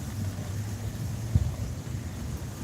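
Gusty outdoor wind on an overcast day buffets the microphone with a steady low rumble and one stronger thump of a gust, no voices present.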